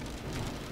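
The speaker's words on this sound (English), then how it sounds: "It started to rain." Rain falling outdoors, a steady broadband hiss of drops that stays even and moderately close through a very short moment, with no voices.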